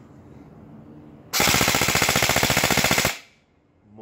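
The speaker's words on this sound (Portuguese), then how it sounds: "Vamos passar no full alto pra vocês observarem a cadência dela" An airsoft AEG M4 Bolt B4FS with blowback and recoil system fires one loud, rapid full-auto burst of about two seconds, each shot distinct in a fast even rhythm, after a quiet stretch of room noise.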